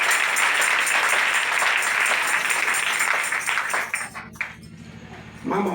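A congregation at a prayer camp applauds in a loud, dense wave of clapping that carries on steadily, then thins and breaks off into scattered claps before a final burst.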